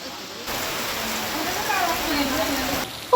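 Rain falls outdoors in a steady hiss for a few seconds, an even wash that cuts off abruptly near the end.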